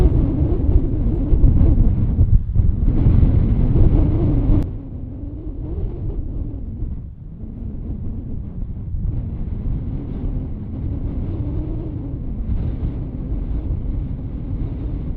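Strong wind buffets the microphone on a links golf course at Royal Portrush, a loud steady low rumble that eases slightly after a few seconds and keeps gusting with no voices.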